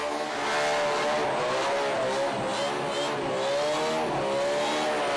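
A burnout car at a burnout competition at Perth Motorplex, its engine held at screaming high revs beyond 9,000 rpm, a loud sustained wail rising and dipping with throttle blips, tyres squealing beneath, close and continuous.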